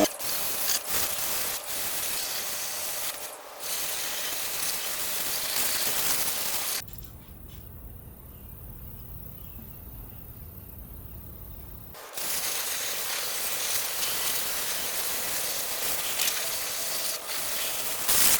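A Ryobi 1900 psi, 1.2 gallon-per-minute pressure washer spraying the engine bay of a 1996 Honda Civic EK, a loud steady hissing rush that drops to a muffled spray midway, then returns at full force.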